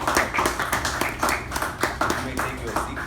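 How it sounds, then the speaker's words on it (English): A room of people applauds for outgoing officers at an installation ceremony, with a dense run of quick hand claps at steady volume and faint voices under it. "Please give the outgoing officers a round of applause for the wonderful service they have rendered to this."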